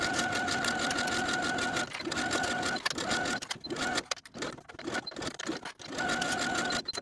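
A sewing machine stitches a shorts pocket seam with a rapid, even mechanical whir, running loud and close in bursts with short pauses between runs.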